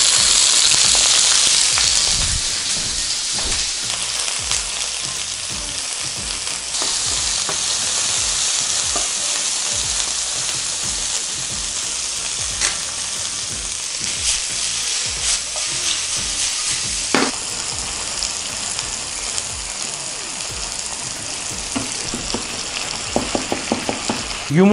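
Eggs frying and being stirred in hot, smoking oil in a pan, a loud, continuous close sizzle with soft scraping and occasional light clinks.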